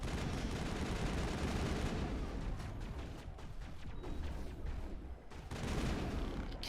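Dense, sustained gunfire in Mass Effect on Insanity difficulty, rapid shots overlapping into a continuous combat din with short dips in intensity.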